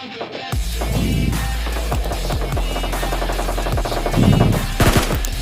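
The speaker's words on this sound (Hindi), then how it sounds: "गन साउंड तो इतने आ रहे हैं बहुत ज़्यादा" Dense gunfire in PUBG Lite, rapid automatic bursts and single shots cracking close and loud over a constant game background hum, with no speech.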